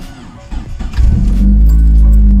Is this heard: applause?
no